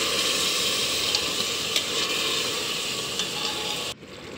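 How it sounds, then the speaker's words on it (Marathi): Chicken sizzles steadily in hot oil as it is stirred and fried for a pulao, a loud continuous crackle with faint scraping that cuts off abruptly near the end. "चिकन चांगल्या प्रकारे हलवून तेलामध्ये परतवून घ्यावे."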